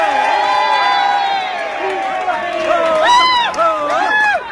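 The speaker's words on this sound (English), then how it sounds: "you are seeing Muslims cheering at an English Christian preacher being arrested in England" A crowd of Muslims cheers loudly at the arrest of an English Christian preacher in England, with massed shouting and whooping voices rising and falling close by.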